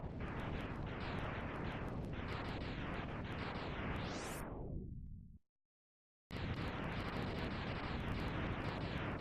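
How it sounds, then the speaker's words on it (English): Sigma's fortress and floating island blowing up in the 16-bit Mega Man X game, a long chain of loud crackling chiptune explosions ending in a rising sweep, a sudden silence, then more rapid blasts. "the entire floating island sinks into the ocean in a fantastic explosion. A 16-bit explosion."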